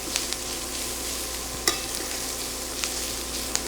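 Onions sauté in hot oil in a pan, a steady, close sizzle running throughout with a few sharp clicks from stirring.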